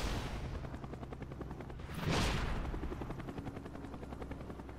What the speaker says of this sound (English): I wish my helicopter would shoot somebody, though.